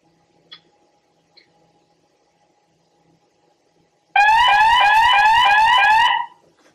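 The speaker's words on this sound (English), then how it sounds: "I will trigger an alarm." A loud electronic alarm from a MOBOTIX IP security camera sounds abruptly after a quiet stretch, a harsh pulsing tone repeating for about two seconds before cutting off.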